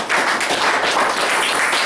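A church congregation breaks into dense, continuous applause, a steady roar of many hands clapping together, loud and filling the short stretch without any talking.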